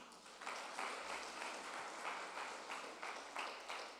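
A church congregation claps during a sermon, soft and distant applause in pulsing waves, steady for several seconds.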